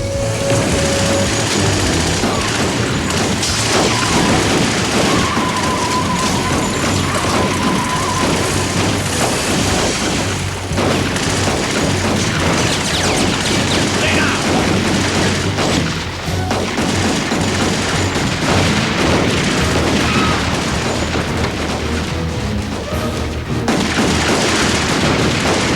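Repeated bursts of gunfire from a volley of guns in a gangster drama, dense fusillade-like cracks and booms rolling over each other continuously, loud and close with almost no pauses.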